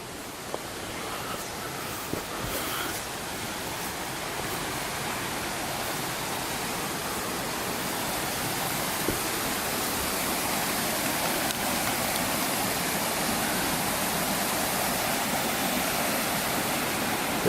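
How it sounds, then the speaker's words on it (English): Swollen river in the Bowron Lakes wilderness, running high with extra water, rushes in a steady, full broadband roar that stays loud and unbroken throughout, with no voices over it. "It's flowing a lot more water this year."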